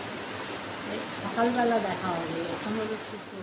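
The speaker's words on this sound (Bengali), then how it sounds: "একটু তোমাদের সাথে শেয়ার করলাম এই ভোরের বৃষ্টি" Steady early-morning rain hiss fills the background while a person talks over it partway through.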